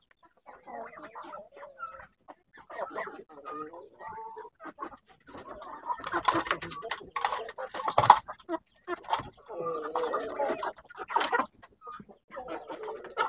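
Chickens being put into a cardboard box cluck and squawk in bursts, close and fairly quiet, with scratchy movement and a louder flurry partway through.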